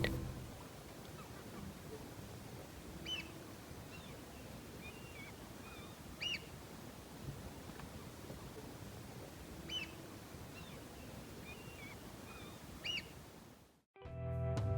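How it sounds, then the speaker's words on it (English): Faint, distant bird calls repeat every few seconds over a constant low wash of ambient noise on a northern summer night in the Outer Hebrides, ending in a sudden thump. "listened to the sounds of birds way into the northern summer night"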